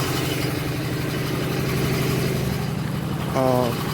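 A 1984 Buick LeSabre engine with new spark plugs idles steadily and close, its even hum rising briefly near the end, with a voice speaking over it.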